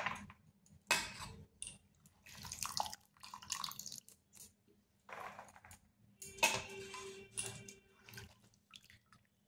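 Water drains off a washed, chopped banana stem in a home kitchen: scattered drips, splashes and light clatter of a metal dish come in short bursts, close by, with gaps of quiet between.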